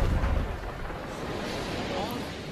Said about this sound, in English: Big explosion from 2 sticks, I can't believe it.